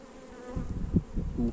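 Honeybees buzz around an opened beehive during an inspection, a close, steady droning hum that swells and fades as individual bees pass near, with no talk over it.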